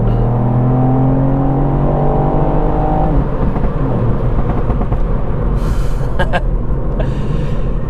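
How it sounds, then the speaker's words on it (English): A tuned 265bhp Mk8 Ford Fiesta ST engine revs in third gear, a loud sustained drone with rising harmonics early on, then steady road and engine roar with a few sharp crackles near the end. "we'll give it a quick blip in third"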